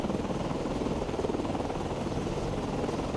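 Helicopter launching from an aircraft carrier deck in the naval game Cold Waters, a steady, loud rotor and engine drone holding evenly throughout with no voices over it.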